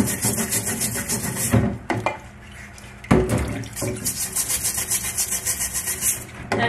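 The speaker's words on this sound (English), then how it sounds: "But I am scrubbing this rust away, and it's coming off quite easily." Scrubbing surface rust off a cast iron waffle iron, with repeated rough back-and-forth rubbing strokes close up, some running water in the background and a couple of brief pauses.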